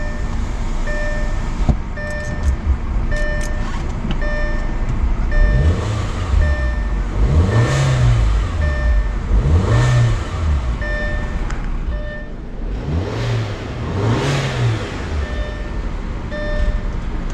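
A Chevrolet Camaro with its check engine light on revs repeatedly, a series of rising and falling engine swells about every two seconds, loud and close, over steady background tones and without talk.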